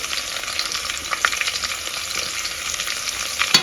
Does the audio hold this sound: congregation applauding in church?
no